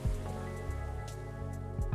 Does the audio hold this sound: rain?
yes